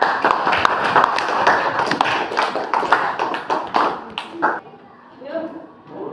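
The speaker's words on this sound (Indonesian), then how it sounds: "buat tepuk tangan" Children clap their hands in a classroom learning session, a dense run of close claps that thins to a few scattered taps before fading, with voices talking near the end.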